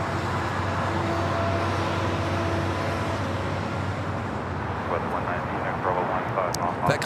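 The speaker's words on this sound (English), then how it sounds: "China Eastern Airlines Flight 583 coming in from Shanghai," A China Eastern Airlines Boeing 777-300ER arriving at LAX from Shanghai, a sustained heavy engine roar that stays loud and steady, with a low steady hum underneath and speech over the top.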